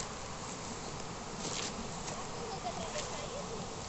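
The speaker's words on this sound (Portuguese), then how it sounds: "Tá me atacando a abelha aqui, ó." An insect buzzes faintly but steadily near a person at a waterfall in rural Minas Gerais, Brazil, its drone rising in brief swells over a constant rush of falling water.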